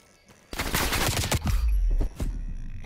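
Rapid AK-47 bursts in a competitive first-person shooter match, a dense volley of loud shots starting after a brief quiet, with a short gap before the firing resumes.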